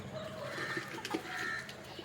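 Native country chickens released from their coop cluck and coo softly, a few faint calls over a low background hum.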